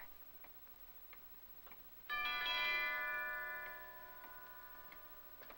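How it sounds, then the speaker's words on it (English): A doorbell rings once partway through, a bright chiming tone that swells and slowly fades over a couple of seconds, preceded by faint steady ticking in a quiet room. "He just rang the bell again and then stood there."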